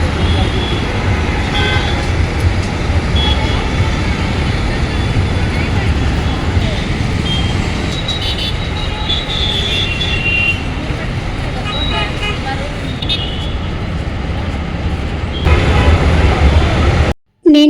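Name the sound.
bus travelling on road near Uppal ring road, Hyderabad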